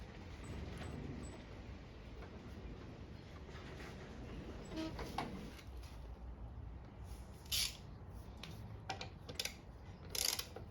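A part is screwed in while a lawn mower is serviced: soft mechanical ratcheting clicks come in a few brief bursts over a faint, steady background, with no talking.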